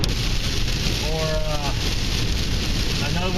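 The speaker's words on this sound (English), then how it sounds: "it's gotten light, and that just means that I can see the rain" Rain falls steadily on the Ozark Trail in the Taum Sauk section, a dense broadband hiss that runs throughout at close range, with a brief spoken word partway through.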